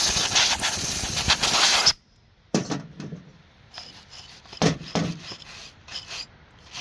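A brush scrubs gunk buildup off a saw during maintenance: a loud, continuous scratchy rasp for about two seconds, then a quieter stretch broken by short, intermittent brushing strokes.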